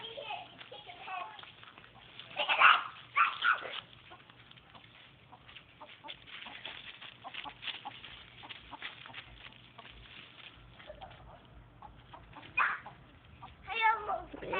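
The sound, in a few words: chicken clucking while being chased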